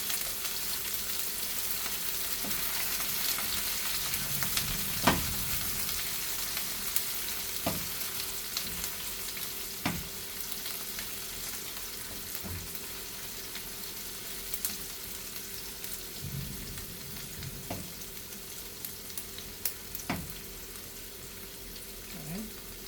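Garlic, sausage, peppers and onions sauté in a pan over lowered heat, giving a quiet, steady frying hiss with an occasional sharp click of a utensil against the pan.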